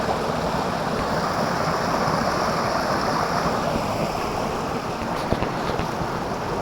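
Waterfall at Thottipparai near Odugathur in Tamil Nadu, a dense, continuous rushing roar of falling water, loud and unbroken throughout with no voices.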